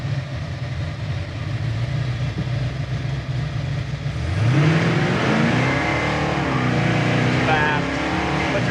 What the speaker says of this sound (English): And that's just putting it in drive and going.